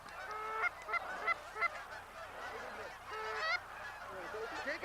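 Canada geese honk repeatedly in a busy chorus during a goose hunt, their nasal calls overlapping in irregular bursts from a flock nearby.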